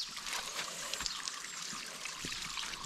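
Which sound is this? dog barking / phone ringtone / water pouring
water pouring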